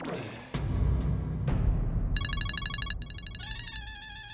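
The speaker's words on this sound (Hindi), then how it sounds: "देखो फिर से पार्टी का फोन आ गया" A phone rings with an incoming call, a bright electronic ringtone pattern repeating from about two seconds in and growing busier, over a murmur of indoor background sound and thumps.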